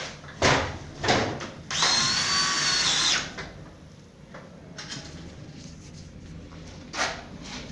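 Power drill driving a screw into gypsum board drywall, short whirring bursts then a longer high-pitched drive lasting about a second and a half, close and loud, with sparse knocks after.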